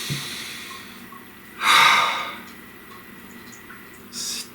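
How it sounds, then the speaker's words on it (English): A single deep breath drawn in during a calm guided meditation, a soft airy rush that swells for about a second and fades, followed later by a fainter short exhale, with no talking. "Please take a nice deep breath."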